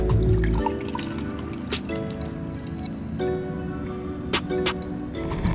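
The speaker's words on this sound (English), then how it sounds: "I'm gonna try to gently pour this into our little bottle here, straining out our herbs" Herbal liquid is poured through strained herbs into a small bottle, making a close, continuous trickle broken by a few brief splashy drips and clinks.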